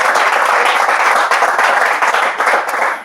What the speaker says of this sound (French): On peut applaudir bien fort pour elle.